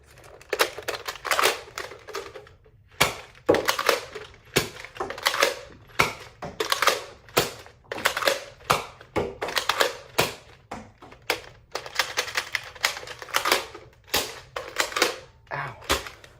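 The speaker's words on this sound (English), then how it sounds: "My hand hurts from firing this blaster." Nerf N-Strike Maverick Rev-6 blaster firing orange darts, a rapid run of sharp, close plastic clacks and snaps with brief gaps, loud and alone without talk.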